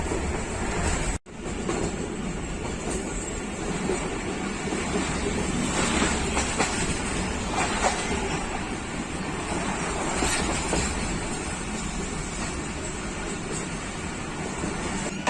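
The Tezgam passenger train rumbles past Mandra railway station in Pakistan without stopping, steady continuous rolling, clattering noise with a brief sharp dropout early on, no voices.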